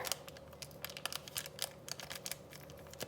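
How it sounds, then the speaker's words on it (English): Scissors snip open a biscuit mix package in a home kitchen, giving a quick run of small crisp cuts and crinkly plastic sounds, close and soft. "So you take your scissors and you're gonna open up your package here."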